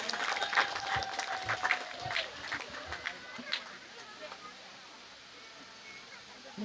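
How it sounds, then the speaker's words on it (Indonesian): Applause from an audience at a National Children's Day 2025 event in Indonesia, a crowd clapping after a dance performance by children, loud at first and then thinning and fading away, with voices and a brief tone over the start. "Boleh kita berikan tepuk tangan yang paling meriah."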